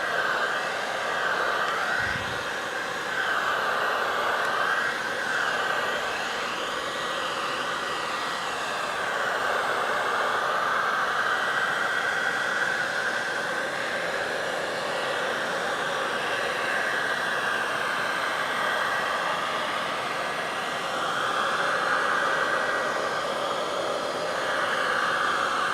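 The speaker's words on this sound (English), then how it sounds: "But let's get a little heat gun on here." A heat gun blowing steadily over wet milk paint, a continuous loud whooshing hiss with a slight wavering tone, close and alone, no speech.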